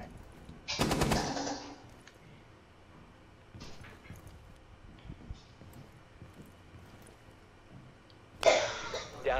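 Gunfire in the tactical shooter game Rainbow Six Siege, two short bursts of rapid automatic fire a few seconds apart, with quieter scattered game noise in between.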